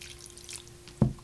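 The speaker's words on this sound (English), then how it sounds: "Let's add a little bit more water." A single small splash and drip near the end as a little water is added to a wild rice casserole mixture, close and brief against a quiet room hum.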